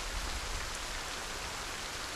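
Steady, dense rain pours in Project Zomboid, a continuous broadband hiss of falling water that stays loud and even throughout with no voices.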